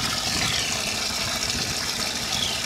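Tap water pours steadily into a bucket, a close, even rushing splash that continues without a break for a few seconds with no voices.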